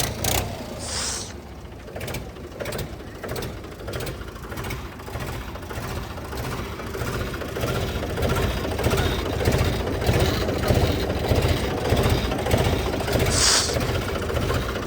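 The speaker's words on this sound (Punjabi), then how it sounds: "ਲੋ ਜੀ ਬਾਈ ਸਟਾਰਟਿੰਗ ਚੈੱਕ ਕਰੋ ਟਰੈਕਟਰ ਦੀ" A Mahindra 265 tractor with a worn silencer runs at a steady idle, its engine thumping in an even, rapid rhythm up close, growing a little louder toward the end.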